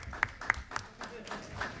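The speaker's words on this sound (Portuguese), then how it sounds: "uma salva de palmas aí para o empoderamento das mulheres" At a social participation forum assembly, scattered claps come faint and distant, a brief handful of hand claps mixed with murmuring voices.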